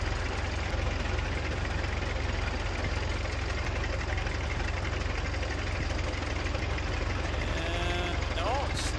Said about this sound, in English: It's a neat little tractor.